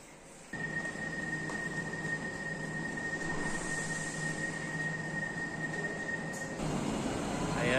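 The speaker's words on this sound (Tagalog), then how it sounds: "naiwan na kami ng tren guys" A Barcelona metro Line 3 train rumbles steadily with a sustained high whine, building then holding a loud, close roar as it pulls away, with a brief squeal near the end.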